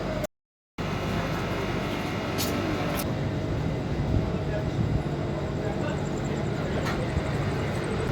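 The Sri Jagannath Express, running from Shalimar to Puri, gives a steady, loud, continuous rumble from inside the moving train, with a few faint clicks and indistinct voices mixed in.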